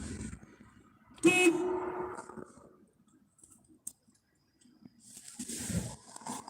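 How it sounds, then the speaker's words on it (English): A car horn honks in one short blast, then a second fainter toot follows a few seconds later, both fairly close with a quiet outdoor background and no talking. "I guess I'll try honking one more time."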